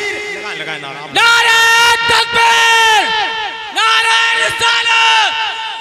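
A large religious gathering at a naat recitation answers the takbir slogan together, loud massed voices bursting in with raised hands, rising and falling in several swells, with a singer's sustained melodic voice running through.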